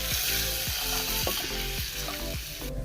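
Chili powder and green chilies sautéing in a pan for a Kerala mackerel curry, a steady close sizzle with repeated scraping stirs from a spoon, no talking.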